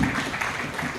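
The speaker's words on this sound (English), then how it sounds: "So another round of applause." Audience applause fills a conference hall at the close of an afternoon session, a dense, steady patter of many hands clapping for about a second with no speech over it.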